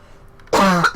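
A woman gives a single sharp cough or throat clear up close, a brief harsh burst after a quiet moment, during a knitting podcast chat.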